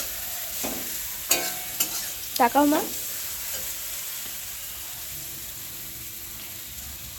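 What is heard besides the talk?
vegetables frying and being stirred in a pan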